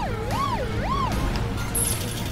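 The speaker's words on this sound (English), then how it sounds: "Siren!" A wailing siren rises and falls twice over steady engine and music noise in a kart racing video game, loud and close.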